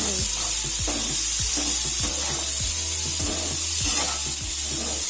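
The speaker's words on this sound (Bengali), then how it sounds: "হলুদ গুঁড়ো লবণ আর হলুদটাকে আলুর সাথে নাড়াচাড়া করে মিশিয়ে নিচ্ছি" Potatoes seasoned with turmeric and salt fry in a pan as a spatula stirs them, producing loud continuous sizzling punctuated by rhythmic scraping strokes, close up and without speech.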